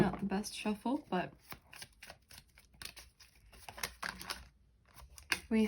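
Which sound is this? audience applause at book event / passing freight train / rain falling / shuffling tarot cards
shuffling tarot cards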